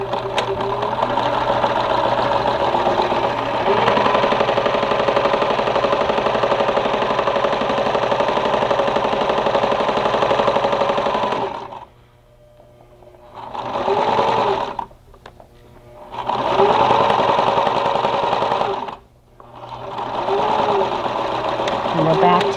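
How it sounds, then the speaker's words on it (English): Sewing machine stitching quilt pieces with a quarter-inch seam, running in long steady buzzing stretches that stop briefly twice and then resume, close and fairly loud. "let's go ahead and get our machine ready here, and I'm gonna quickly sew this for you"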